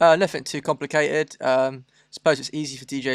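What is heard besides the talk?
No distinct noise like a dog, phone or traffic.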